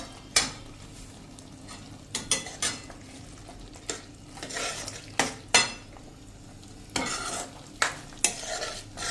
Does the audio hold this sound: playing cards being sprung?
no